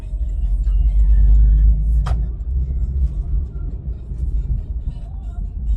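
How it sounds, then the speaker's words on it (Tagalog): A Porsche 911 Carrera S sports car carrying a passenger, its engine giving a loud, deep, steady rumble with a brief sharp high transient near the middle and no talk. "Nakakasakay sa isang sports car"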